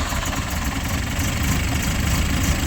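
Demo derby car engine, freshly fitted with new spark plugs, idling steadily and loudly up close with a low rumbling, slightly knocking throb that holds even throughout; the cranking and start are not evident, only the running idle.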